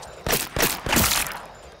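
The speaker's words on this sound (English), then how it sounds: "I need to do some effort to actually make gunshots." A burst of gunshots in a Roblox gore game, four or five loud sharp cracks fired in quick succession over about a second with a short fading tail, and no voices.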